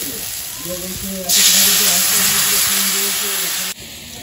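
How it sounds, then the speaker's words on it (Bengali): Water is poured onto fried spice masala in a hot pan for an egg curry, setting off a sudden loud hiss of sizzling steam that lasts a couple of seconds and then drops away, with a voice faintly underneath. "সুন্দরভাবে মশলাটা কষানো হয়ে গেছে। এবার আমি জল দিয়ে দেবো।"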